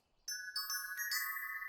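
A cartoon bell sound effect in a Mickey Mouse Clubhouse setting: bright chiming rings struck several times in quick succession after a short silence, clear and ringing on with no talk.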